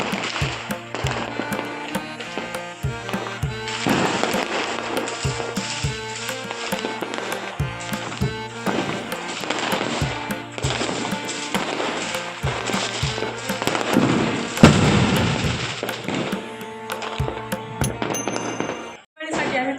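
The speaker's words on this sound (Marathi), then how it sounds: "ओ माय गॉड इतकं भारी वाटतं इतके मस्त मस्त फटाके असते" Diwali firecrackers crackle and burst in rapid, dense volleys, sharp pops overlapping continuously with a steady loud roar and distant bangs.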